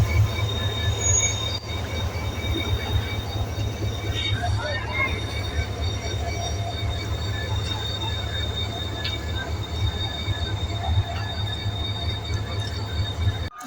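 Rehman Baba Express, led by an HGMU-30 diesel locomotive, departs Karachi Cantt. A loud, steady low engine rumble fills the platform, with faint high wheel squeal and clatter throughout.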